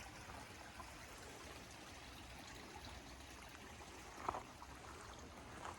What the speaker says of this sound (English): a nice little creek through here